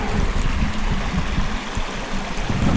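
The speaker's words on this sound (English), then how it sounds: "There is the creek." A creek on rural California land runs in a steady, close rush of flowing water with gurgling and trickling, constant and fairly loud, with no talking.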